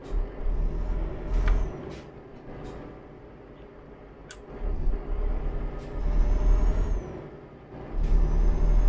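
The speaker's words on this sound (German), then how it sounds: "Mein LKW klingt gerade schon kaputt." A truck in Euro Truck Simulator 2, sounding broken, with a steady low engine rumble that rises and falls, hissing air-brake releases and a few sharp clanks over continuous road noise.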